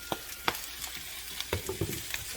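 Vegetables sizzle in a hot pan during a stir fry, with a steady frying hiss and a few sharp scraping strokes from stirring at close range.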